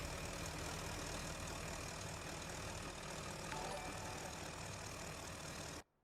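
A Ford car with one rear wheel missing idles in a video game, a steady broadband engine drone holding for nearly six seconds before cutting off abruptly.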